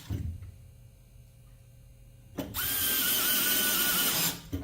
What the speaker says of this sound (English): this Milwaukee drill driver